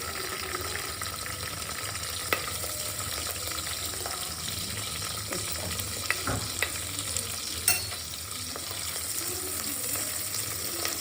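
Garlic and onion fry in about two spoons of oil in a home kitchen pan, a steady close sizzle with occasional scrapes and stirring clinks throughout.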